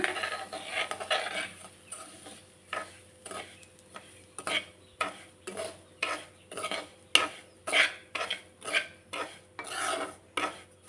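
Semolina is stirred through hot oil in a pan to roast for restaurant-style upma, giving a steady run of dry, rasping scrapes as the spoon sweeps back and forth, close and fairly quiet, with no talk.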